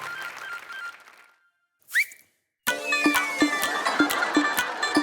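A whistle on a TV game show set gives one short, sharp blast after a pause, followed by loud, busy music.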